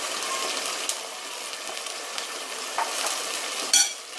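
Masala frying and being stirred in a pan with salt and one or two green chilies, a steady close sizzle throughout, with a brief louder clatter near the end.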